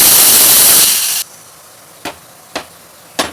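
A pressure cooker cooking dal lets out a loud, sustained steam hiss that cuts off abruptly. Three short, sharp puffs of steam follow at irregular intervals.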